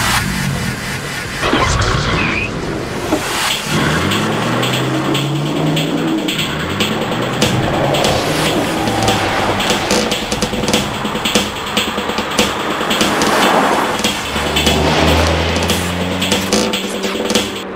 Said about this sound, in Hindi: चलिए अब हम निकल चुके हैं न्यू जनरेशन कार की टेस्ट ड्राइव पर